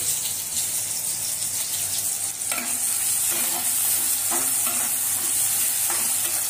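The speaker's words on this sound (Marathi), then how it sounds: "हे बारीक चिरलेला कांदा आहे ना, तो थोडा अर्धा फोडणीला द्यायचा." Finely chopped onion sizzles in a hot spice tempering for kheema, a loud continuous frying hiss with stirring clatters from about the middle onward, and no voices.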